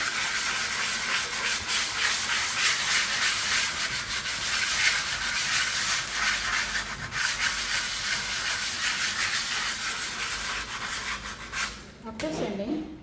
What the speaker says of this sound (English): I'm going to sand this area, especially just to make the surface flat.